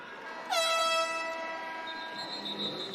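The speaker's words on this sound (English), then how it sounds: "Horn sounds to end the first quarter." A loud air horn at a professional lacrosse game blares once to end the first quarter, a sustained bright honk that holds for a moment before tapering into a fainter lingering tone.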